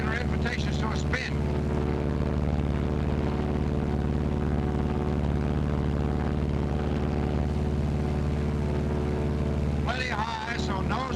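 Martin B-26 Marauder twin-engine bomber droning steadily during a 90-degree approach turn, a loud continuous engine hum with strong low harmonics throughout, briefly joined by short bursts of voice near the start and end.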